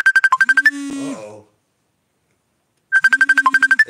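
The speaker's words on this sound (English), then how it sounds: "She's ringing you over here." A phone ringtone sounds in short, rapid bursts of bright electronic tones, pauses for over a second of silence, then repeats close and loud.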